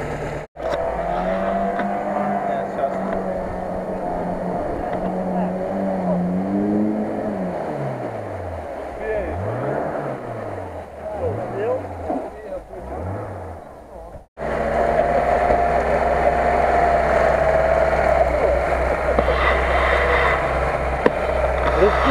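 Off-road vehicle engine in a 3D driving game featuring the Lada Niva (VAZ 2121), UAZ-469 and quad bikes, droning steadily, then revving up and down in repeated swells as it reverses, before a louder, steadier engine tone takes over.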